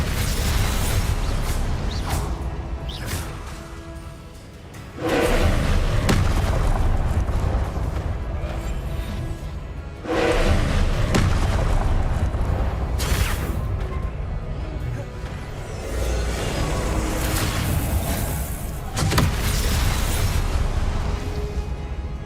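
Incendio fire spell cast repeatedly in the video game Hogwarts Legacy, several loud crashing bursts a few seconds apart over constant low rumbling combat noise, close, no speech.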